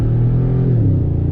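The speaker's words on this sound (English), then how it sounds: "U-turn in the Tundra, easy peasy on throttle" A 2019 Toyota Tundra TRD Pro pickup pulls out of a U-turn under light throttle, its engine a steady, loud, low rumbling drone close by, with no voices.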